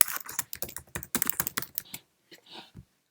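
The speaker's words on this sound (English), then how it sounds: "Let's now type in hello world again." Typing on a Mac desktop computer keyboard, a quick close run of key clicks in bursts for about two seconds, then a pause and a few last keystrokes, no talking.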